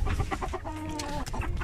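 A hen clucks in a short, close run of rhythmic calls, loud and clear with no talking.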